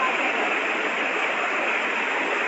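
A flooded stream in Kelvi rushes in a steady, loud, broadband roar of water that continues unchanged throughout, with no voices.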